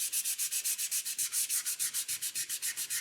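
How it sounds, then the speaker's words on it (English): Rapid, steady back-and-forth strokes of sandpaper rubbing by hand over a wooden honey locust wok, about twenty even scrapes in three seconds, close and fairly loud with no talk. "so I sand a little harder right there till it comes out nice and flat"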